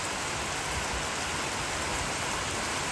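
Rain falling outdoors, a steady, dense hiss of drops that stays constant and fairly loud, with no voices.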